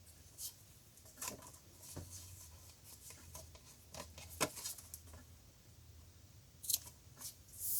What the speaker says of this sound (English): Now I'm just going to cut my tails off nice and close.